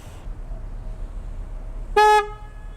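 An added horn on a 2017 BMW F700GS motorcycle gives one short, loud, bright honk up close after a quiet stretch.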